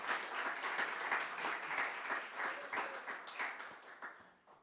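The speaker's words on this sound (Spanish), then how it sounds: "Den una ofrenda de aplauso al Rey de Reyes y Señor de Señores." A church congregation at a sermon service claps together in a rhythmic, steady pulse, moderately loud and a little distant, gradually easing off toward the end.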